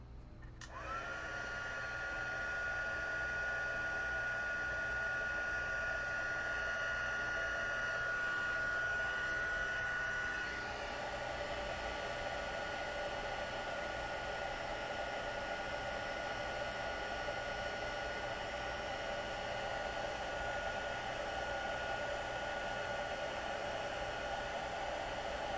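A heat embossing tool blowing hot air in a craft room, a steady whooshing fan roar with a high whine that starts abruptly, shifts pitch partway through, then runs on unbroken and fairly quiet.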